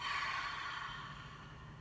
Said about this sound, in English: let's take a nice big deep inhale in through our nose. Big exhale out through our mouth